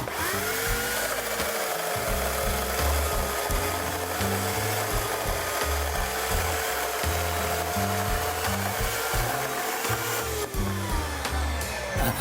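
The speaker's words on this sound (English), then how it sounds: "let me just show you what it looks like if the chain is sharp and it's doing the job properly" Chainsaw with a freshly sharp chain cutting through a log, a loud, continuous high-revving engine whine with a grinding cut that holds steady throughout, close by and without speech.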